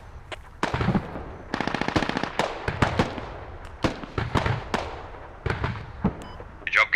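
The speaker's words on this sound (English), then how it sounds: "Just fire a couple of rounds from time to time." Video game gunfire in a competitive team shooter: rapid bursts and single loud shots ring out in irregular clusters, with one fast stuttering volley, close and punchy throughout, with no voices over it.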